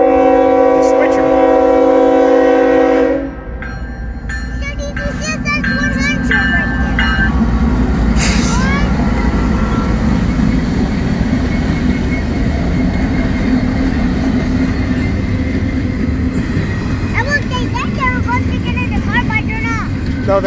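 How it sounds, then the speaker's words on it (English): Norfolk Southern heritage locomotive 8100 in Nickel Plate Road livery hauls a train past a town crossing; a loud horn gives way to a steady rumble and clatter of railcars rolling by close, with voices talking underneath. "after the train goes by"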